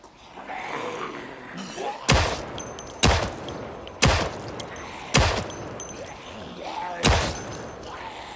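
Gunfire in the zombie survival game Project Zomboid: six loud, sharp shots ring out at irregular intervals of about a second, each with a short decaying tail over a low background.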